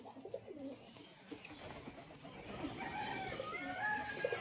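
Pigeons in a loft with chicks and eggs, bird calls and soft coos rising over a busy, rustling background that grows louder toward the end.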